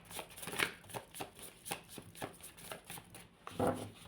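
Tarot cards shuffled by hand during a reading: a run of crisp riffling bursts, close and fairly loud, repeating at an uneven rhythm for about four seconds with no talk over them.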